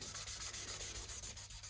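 Sanding down a scratch on a guitar neck with rapid back-and-forth strokes, about a dozen even rasping passes in quick rhythm, close and continuous.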